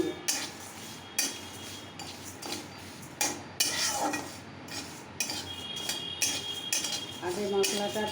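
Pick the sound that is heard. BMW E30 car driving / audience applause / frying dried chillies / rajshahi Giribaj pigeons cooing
frying dried chillies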